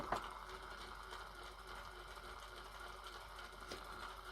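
Two small electric motors fitted with heat-shrink-covered drive cups on a Tamiya MAN TGX 6x4 truck model run at 1 volt and give off a steady, faint mechanical whir.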